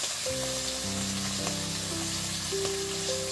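Chitol fish frying in a pan, a steady close sizzle running underneath sustained tonal music notes that shift in pitch.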